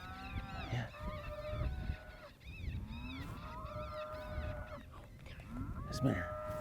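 A cow moos in long, drawn-out calls, several in succession from a distance during a coyote hunt, over faint background noise.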